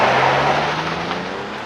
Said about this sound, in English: The all new 2022 Nissan Frontier Pro 4X without launch control,